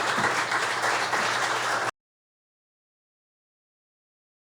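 An audience applauds for a podcast guest, giving a dense, steady burst of clapping for about two seconds before cutting to silence.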